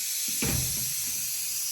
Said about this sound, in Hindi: सीटी मारने लग पड़ा कुकर